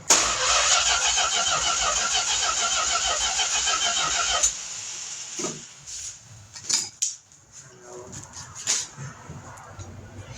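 A 1969 Plymouth Road Runner engine, not started in over 23 years, cranks with a steady rhythmic starter whir for several seconds, then cuts off into scattered clunks and knocks from the engine bay, close and loud.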